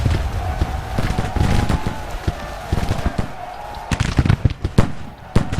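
Musket volleys crackle in the Grand Tactician: The American Civil War game during the Battle of the Wilderness, scattered shots popping irregularly over a steady rumble of battle noise, growing sharper toward the end.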